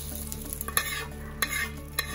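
A tempering for dosa batter sizzles quietly while a few sharp clicks and scrapes punctuate it, likely a spoon against a metal pan, with no one speaking.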